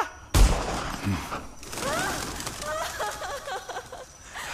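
Gunfire in a Kannada-dubbed Pushpa 2 climax fight scene: a sharp loud shot, then metallic mechanical clatter and ringing ricochet-like tones, all inside a dense, busy film soundtrack.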